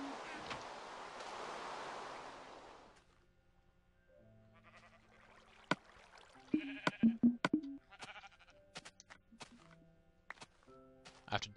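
Sheep in the Minecraft video game bleat in a few short, close calls, following a burst of rushing noise and mixed with clicks and other game sounds.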